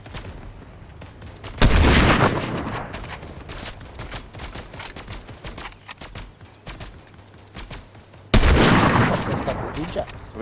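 Fortnite gunfire: a steady run of sharp, close shots with two heavy, booming blasts standing out, while a player talks over the shooting.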